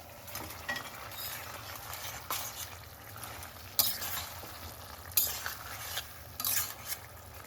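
Tomatoes, fried earlier, stirred into a pan of melted butter, with soft sizzling under repeated scraping and clinking of a spoon against the pan, and a few sharper metallic knocks.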